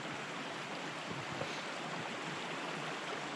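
Steady broadband rush of flowing water from a stream in Colorado, continuous and even with no voices.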